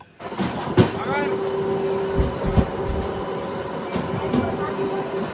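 A MEMU passenger train on the Kacheguda–Raichur route pulls away from a station, with a low rumble and rolling noise, a sustained whining tone and intermittent clanks and thumps of the carriages. Faint voices may sit underneath.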